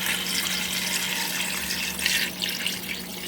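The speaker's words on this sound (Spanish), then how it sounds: "voy a agregar 10 tazas de agua" Water pours steadily into a pot of seafood stew (mariscada) with shellfish lightly fried in margarine, a continuous close, full splashing flow running alone for the whole stretch.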